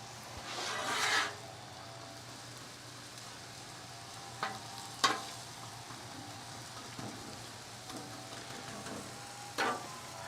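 Philly cheesesteak sausage with peppers and onions sizzling steadily on a hot cooking surface, with a scraping stir near the start and a few sharp spatula scrapes and clanks later over the constant fry.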